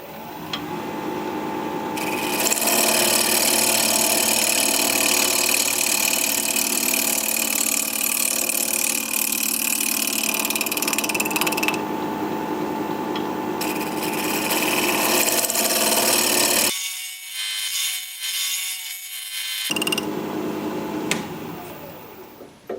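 A wood lathe spins a scrap wood bowl with a loud, continuous whirring drone and tool scraping, cutting out briefly near the end before starting up again.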